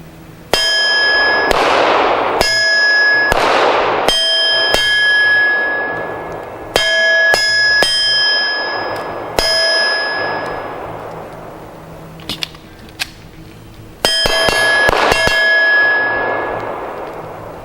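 Arsenal Firearms Strike One pistol shots ringing off a steel target, a dozen or so sharp cracks each followed by a bright metallic clang, spaced irregularly with some quick pairs and a fast string near the end.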